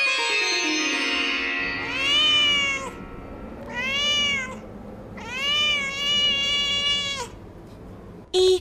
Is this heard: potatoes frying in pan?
no